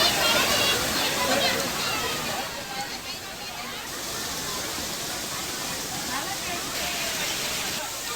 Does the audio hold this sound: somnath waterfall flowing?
yes